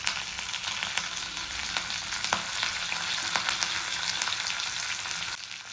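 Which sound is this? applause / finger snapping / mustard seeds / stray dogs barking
mustard seeds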